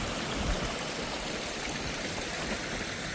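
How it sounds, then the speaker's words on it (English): A woodland creek spilling down a small drop over a little hill, a steady close rushing and gurgling of water with no voices. "you can see how the creek just drops down this little hill"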